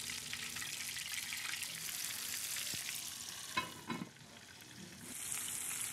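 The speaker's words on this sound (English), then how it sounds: "the first chicken's all done, and now I've started frying the second" Steady, dense sizzling of chicken pieces deep frying in hot oil, with a few clinks and stirring knocks partway through, no voices.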